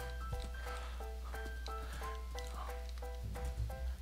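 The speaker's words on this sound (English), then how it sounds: "Lucky we have a horse." Minecraft horse noises over a game's repeating synthetic tones, with a few short snorts and soft clip-clop steps under steady background music.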